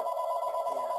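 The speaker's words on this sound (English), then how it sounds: "I'm sorry for my phone ringing" A phone rings nearby with a steady, sustained electronic tone that holds evenly without a break.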